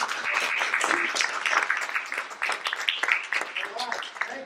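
Conference audience at a plenary session applauding, a dense patter of many hands clapping at moderate loudness, sustained throughout with some voices mixed in.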